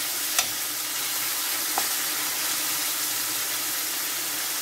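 Chayote (sayote) sautéing in a pan, a steady, close hiss of sizzling with a couple of faint clicks from stirring, and no talk.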